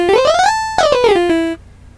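Watsyn wavetable synth with its wave set fully on A, playing a bright, buzzy harmonic tone that glides up, jumps, then slides down before cutting off abruptly.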